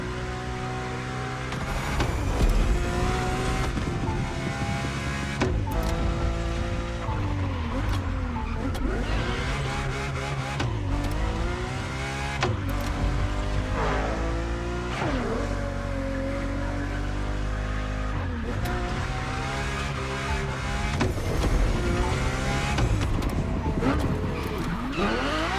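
A Ferrari GTB races in The Crew Motorfest, its engine roaring loud and steady for the whole stretch, with revs rising and falling through gear changes and repeated tire squeals and skids.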